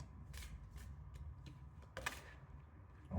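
Playing cards shuffled by hand in quick riffle bursts, several crisp flurries spaced through the clip over a low room hum, close and moderately quiet with no talking.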